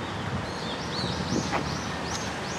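Faint chirps and short calls of birds outdoors on a clear, pleasant day, heard at a distance over a soft background hiss of wind or rustling.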